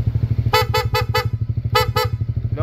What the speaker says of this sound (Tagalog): ang kinabit natin PIAA dual horn setup, horn selector